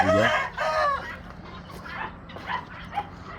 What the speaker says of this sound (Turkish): Bu çok güzel bir tavuk arkadaşlar.